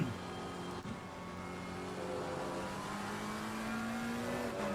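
A McLaren race car engine in Assetto Corsa Competizione at Misano drones quietly and steadily, its pitch sagging briefly then creeping up as the engine dies, with no talking.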